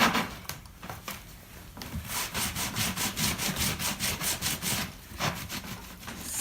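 Grout is wiped and rubbed off a wooden-framed mosaic chalkboard in a quick run of rhythmic back-and-forth scrubbing strokes, close and moderately loud, with a few slower wipes before and after.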